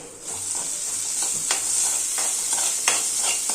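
Ginger masala for egg curry fries over high flame in a pan, a bright continuous sizzle punctuated by repeated scraping stirs of a spoon, close and fairly loud with no talk.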